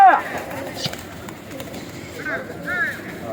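Fighter pigeons coo in soft, murmuring bursts near the start and again toward the end, mixed with background chatter and voices talking over them.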